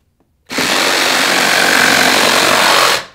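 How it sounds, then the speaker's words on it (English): A power tool starts abruptly and runs at a loud, steady whine for about two and a half seconds before cutting off. "Safety first when working with power tools."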